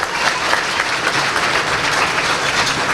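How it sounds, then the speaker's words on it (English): A crowd applauds steadily at a Chaldean community event in Southeast Michigan, a dense, continuous wash of clapping that holds at an even level for about three seconds. "Oh yeah, clap."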